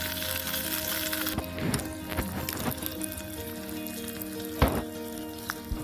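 Small onions (shallots) frying in oil in a miniature pan for Tamil garlic gravy, a steady close sizzle with a few louder crackles and stirring scrapes, no talking.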